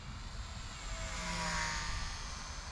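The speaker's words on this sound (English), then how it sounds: "The gear drive motor makes it sound kind of scale." Eachine Mini F4U Corsair 400mm EPP RC plane with a gear drive motor makes a hot pass, a steady whining buzz that swells and fades slightly as it flies by, moderately distant.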